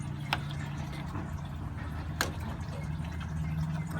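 Old, poor-looking coolant draining out of a 1991-2006 Jeep Wrangler 4.0L radiator, a steady low trickling wash with a couple of faint drips, moderately close, with no talk.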